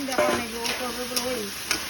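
Plantains sizzle steadily in a pan while a spatula scrapes and stirs, with a voice speaking faintly over the frying.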